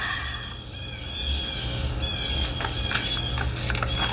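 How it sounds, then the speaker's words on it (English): Faint birds chirp and tweet in the distance, scattered short calls over a steady background hiss. "Can you hear the birds right now?"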